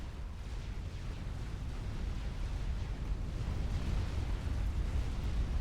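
A rumbling explosion from a TAC missile strike in Supreme Commander, a dense, sustained low roar of blasts and debris without a sharp single peak, fairly loud and continuous.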